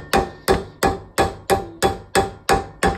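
A hammer strikes a metal solenoid flange from a Toyota MR2 Spyder in a steady rhythm, nine sharp ringing taps spaced evenly and heard up close with no talking.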